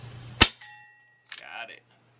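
A Colt Peacemaker SAA gas-cartridge pellet revolver fires once at a small steel target 20 yards out: a sharp crack, then a ringing metallic ping that fades, followed by a brief softer clatter.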